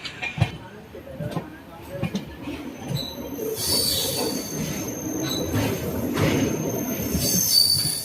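An Ernakulam–Velankanni Express passenger train with LHB coaches rumbles steadily along the rails with a high metallic wheel squeal, not yet at speed, and people talk faintly nearby.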